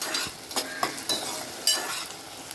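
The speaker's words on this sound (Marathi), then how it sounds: "कांदा चांगला भाजून घ्यायचा आहे आपल्याला." Onion fries in a pan for veg pulav under a steady close sizzle, with several sharp scraping and clinking stirring strokes of a spoon against the pan and no talking.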